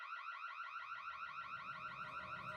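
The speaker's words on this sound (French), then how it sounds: "C'est quoi cette alarme?" A repeating electronic alarm from The Sims 3 video game sounds steadily throughout, a rapid warbling electronic tone cycling at an even rhythm, with a low rumble of background sound joining it partway through.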